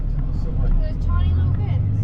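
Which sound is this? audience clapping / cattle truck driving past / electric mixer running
cattle truck driving past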